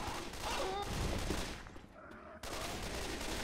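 Gunfire from the video game Left 4 Dead 2, a dense burst of shots up close at the start that thins out midway and returns, mixed with game noise and brief voice.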